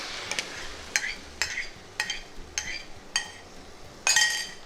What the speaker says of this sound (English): I'm just going to go ahead and add in the homemade tomato puree that we did